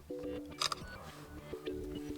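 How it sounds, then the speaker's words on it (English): Camera shutter on a Samsung Galaxy Z Fold 3 5G phone fires during a photo, a short click that stands out from a quiet background with faint clicks around it. "Tap it to take a photo"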